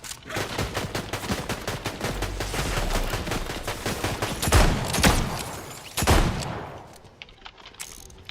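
Gunfire in the Fortnite video game, with dense, loud rapid bursts of automatic shots and a few heavier blasts, fading toward the end, with no talk over it.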